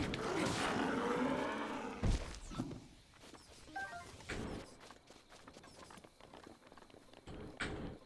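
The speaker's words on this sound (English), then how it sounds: "Cow." A cow moos in The Legend of Zelda: Breath of the Wild, a loud low call opening the stretch, followed by scattered thuds and hoof-like clops at moderate distance.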